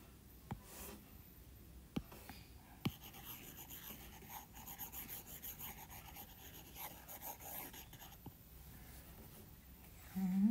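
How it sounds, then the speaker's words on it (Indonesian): A whiteboard is wiped with repeated scrubbing strokes, a soft continuous rubbing broken by a few sharp taps, fairly quiet and close, with no talking over it. "Ini saya hapus dulu."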